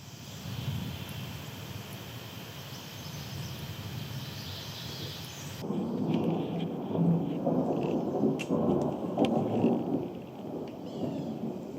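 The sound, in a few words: thunder during rainstorm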